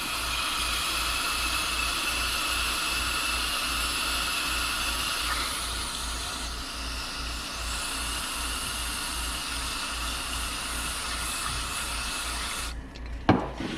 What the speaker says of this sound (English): Spraying the brake cleaner directly on the glide pins.